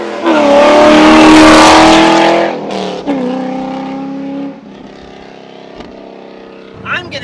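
A car engine revs hard and loud close by, roaring for about two seconds before dropping to a rough, throbbing idle punctuated by a few brief blips.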